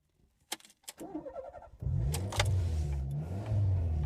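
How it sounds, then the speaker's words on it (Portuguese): A 1987 Fiat Uno Turbo engine turns over and settles into a deep, steady idle with a low rumbling throb, close by, after some clicks and rustling at the start. "Adoro o som desses motores italianos antigos, sempre mais encorpados que a concorrência."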